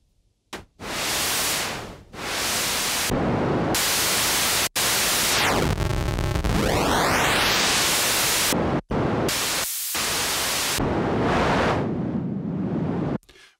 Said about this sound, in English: bring up the multi. Put it in noise at the moment. And there's different types, high, low,